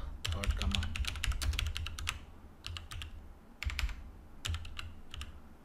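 Fingers type a command on a computer keyboard in bursts of rapid, crisp key clicks with short pauses between runs, close and moderately quiet, with no talking over it.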